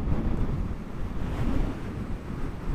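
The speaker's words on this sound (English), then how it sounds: "Winds are currently up to about 60 something mile an hour." Strong Storm Ciara wind, gusting to about 60 mph, buffets the microphone in a steady, roaring rush with surging gusts, alone with no voices.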